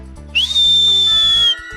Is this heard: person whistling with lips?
yes